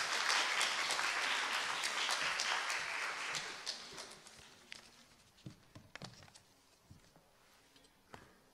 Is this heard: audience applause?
yes